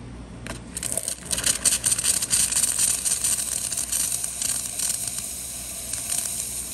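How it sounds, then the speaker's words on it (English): A Gaggia Classic espresso machine's steam wand sends out a steady, loud hissing jet of steam with some sputtering crackle, running continuously for several seconds. The machine is not yet fully up to temperature. "Good steam, not quite all the way hot yet"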